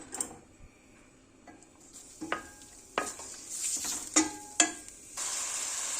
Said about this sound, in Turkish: Şimdi de doğramış olduğum soğanlarımı tencereme alıyorum ve güzelce yumuşayıncaya kadar kavuracağım.